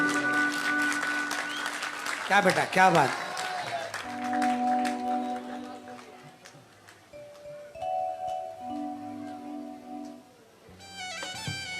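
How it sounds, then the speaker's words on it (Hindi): Audience applause at a live bhajan devotional music program in Kolkata, sustained clapping from a crowd with brief voices calling out over it, followed by sustained musical tones and a talking voice. "आपसे निवेदन करूंगा जोरदार तालियां बजाओ जीआर साउंड के लिए"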